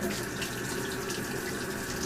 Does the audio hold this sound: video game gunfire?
no